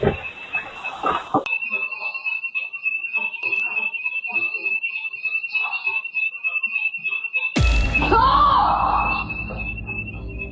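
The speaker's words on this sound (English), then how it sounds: "Something sets off the alarm inside Britt's house" A house alarm sounds, one piercing electronic tone held steadily throughout. Voices and a strained cry come and go under it, and a loud, noisy burst swells near the end.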